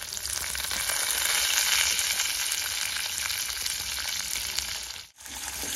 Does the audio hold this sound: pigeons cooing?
no